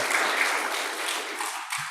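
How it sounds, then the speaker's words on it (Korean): A room full of people applauding at a Korean church Sunday service, dense steady clapping that continues throughout at moderate volume. "박수로 환영합니다"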